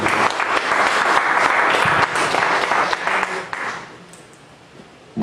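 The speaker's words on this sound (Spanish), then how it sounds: "Le recibimos con un voto de aplauso." A seated audience at a talk on the Bible, vegetarianism and natural medicine claps loudly in welcome for about four seconds, then the applause thins and fades to near quiet before a sudden sound at the end.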